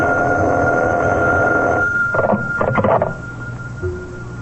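An old-fashioned telephone bell rings in a 1950 radio drama, a loud continuous ring for almost two seconds, then a few short clattering bursts before it falls quiet.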